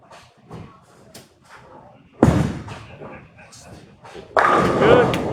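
A bowling ball crashes into the pins at a bowling center in two loud, sharp, clattering impacts. Commentators talk over the lane noise before and between the hits.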